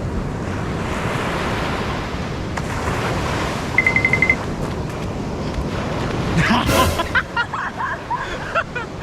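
Pacific Ocean surf rolls onto a white-sand beach at Lanca, Mati City, as a continuous loud wash buffeted by wind noise, with faint voices and a few brief beeps.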